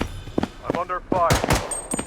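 Rapid bursts of gunfire crackle in a battle royale shooter, sharp shots clustering over about two seconds while a player's voice talks over the firing.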